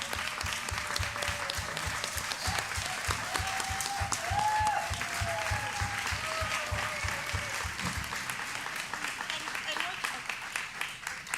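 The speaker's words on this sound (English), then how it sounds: "let's give her one more round of applause for all she has given for all these years." Audience in a Kwanzaa community service giving a long, sustained round of applause, with scattered cheers and raised voices mixed into the clapping before it thins out toward the end.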